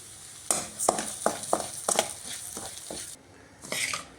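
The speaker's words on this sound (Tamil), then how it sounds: "முதல்ல இந்த ரவையை நல்லா வறுத்தரலாம்" Wheat semolina roasting in hot oil in a pan, a soft steady sizzle broken by a string of regular spoon scrapes and stirs, close and moderately loud, with no voices.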